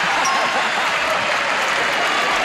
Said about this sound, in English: You don't know why they're applauding and cheering